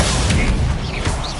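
A Confringo explosive spell blasts in the Hogwarts Legacy video game as a loud, dense roaring burst of noise that holds steady through the whole moment, with a heavy low rumble underneath.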